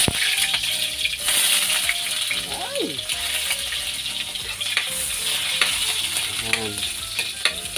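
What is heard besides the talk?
onions frying in a hot pan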